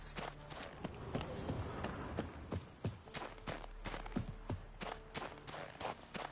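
Horse hooves clopping slowly and unevenly in The Witcher 3, a steady walking rhythm at moderate distance under game ambience.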